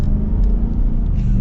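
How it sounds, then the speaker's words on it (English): A 2024 Ford F-350 Tremor with the 7.3L Godzilla V8 accelerates, its engine producing a close, loud, steady low rumble that lasts through the whole brief moment without voices. "And get another acceleration here."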